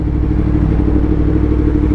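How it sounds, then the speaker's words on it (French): Yamaha MT10 motorcycle engine running steadily close up, a loud low rumbling drone with an even throb and no revving. "qui aiment aussi écouter le son de la moto"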